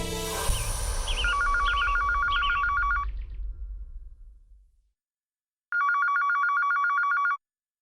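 A phone ringtone trills repeatedly over a fading low rumble, then after a moment of silence a second loud electronic ring plays on its own.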